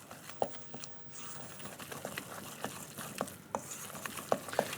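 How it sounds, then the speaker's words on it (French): Homemade ravioli filling being mixed in a bowl, giving soft, irregular stirring scrapes and wet taps repeated at a steady pace, close and fairly quiet. "Et là, on va mélanger notre farce, tout simplement"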